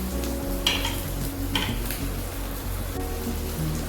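Onions and curry leaves sauté in a pan while making rava idli, a steady close sizzle and hiss with occasional scraping stirs of a spoon against the pan.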